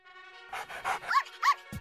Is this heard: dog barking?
yes